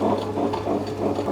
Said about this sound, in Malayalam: അത് നമ്മൾ ഗ്രൈൻഡറിലാണ് അരയ്ക്കണത്.